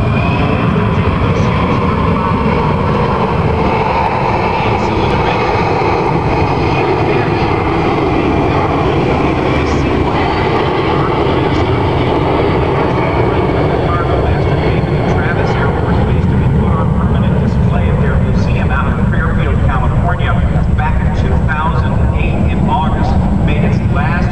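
A Boeing C-17 Globemaster III jet flies at the Oshkosh airshow in 2010, making a loud, continuous, rumbling roar that fills the whole stretch. Faint voices sit underneath.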